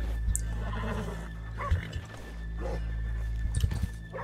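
Horse neighing in the open-world western game Red Dead Redemption 2, with a couple of short whinnies standing out over low game ambience and a few soft hoof sounds.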